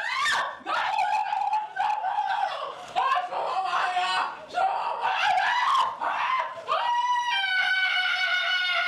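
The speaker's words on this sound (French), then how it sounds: "Encerclée, la jeune femme pousse des cris de désespoir." A young woman surrounded by nurses screams in despair, long piercing wails repeated in rapid succession for several seconds, loud and close, with brief breaths between cries.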